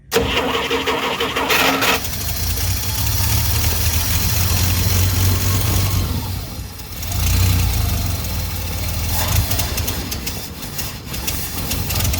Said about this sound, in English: So, the carburetor looks like it's running better.